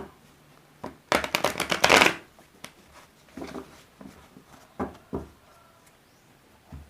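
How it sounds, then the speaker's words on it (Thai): Fortune-telling cards are shuffled in a quick burst of rapid riffling flutters, followed by a few scattered soft taps and slaps of cards being handled, close and fairly quiet. "เดี๋ยวขอสับ ไพ่นิด นึง เนาะ"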